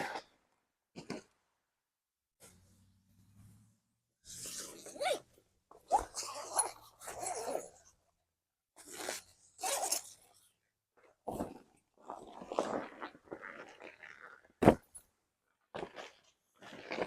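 Short zipping rasps come from an inflatable 18-foot waterslide being closed up, loud separate strokes spread among quiet gaps, with a dog whimpering and rustling nearby.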